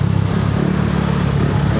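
A motorcycle engine revs through its exhaust nearby, a loud, continuous low rumble with a pulsing throb over a brief stretch at a market.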